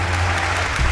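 A short burst of applause for a gifted subscription on a gaming live stream, steady and dense over a low hum.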